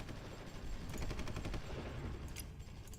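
Gunfire in the strategy game Supreme Ruler Ultimate, a rapid, dense rattle of shots like machine-gun bursts, quiet and continuous for a few seconds with no speech.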